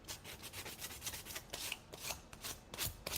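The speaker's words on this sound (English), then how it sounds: "grab your little sander or a little sanding block, and I just scuff over the surface." A small sanding block scuffed back and forth over a craft surface, giving a quiet run of soft, rhythmic rasping strokes heard alone.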